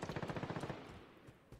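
Automatic gunfire in the Call of Duty Modern Warfare video game: a rapid, evenly spaced burst of about eight loud shots, followed by quieter scattered reports.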